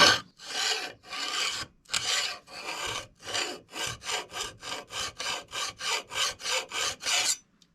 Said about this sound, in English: And when your file encounters those high spots,